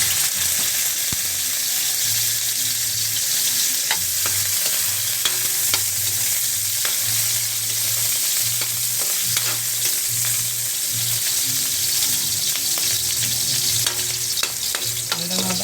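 Ginger and onion sizzle steadily in a hot wok at the start of a home-cooked chicken tinola. Frequent clinks and scrapes of stirring sound close by, with no talking.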